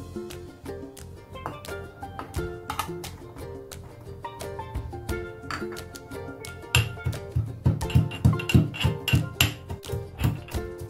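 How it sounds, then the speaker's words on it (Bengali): Garlic cloves are crushed for a Bengali maan kochu bata recipe with repeated hard taps and clinks, steady at first and then heavier and more rhythmic toward the end. "এখন আমি রসুন থেতো করে নেব।"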